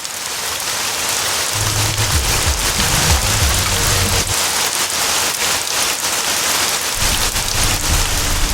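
Steady rain pours down over Caloundra on Australia's Sunshine Coast, a dense continuous hiss of drops hitting surfaces close by, with faint low rumbles mixed underneath and no voices.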